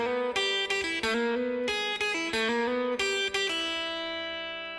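An electric guitar plays a quick lead lick from a solo, with rapid hammer-ons and pull-offs in bursts of fast notes that ring clearly, ending on a note that slowly decays, with no talking.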